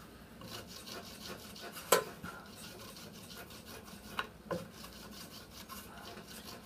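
A tool scrapes and rubs old glue off the wooden back of a Worthington wall clock, a steady close rasping with a few sharper scuffs.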